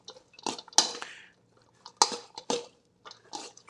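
Jicama mango salad tossed in a bowl: soft wet squishes and clinks of utensils against the bowl in irregular bursts, close up with pauses between.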